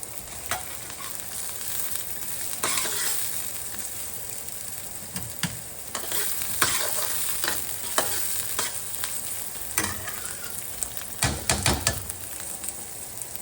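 Onions sautéing in a pan for fried rice give a steady, close sizzle, broken by repeated scraping and clacking spatula strokes and a busier flurry near the end; no one speaks.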